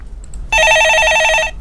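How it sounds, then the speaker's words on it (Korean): A telephone rings with an incoming call in a broadcast studio, a single loud electronic trilling ring lasting about a second, warbling rapidly between two tones, close and clear with no talk over it. "전화 한번 받아보시죠."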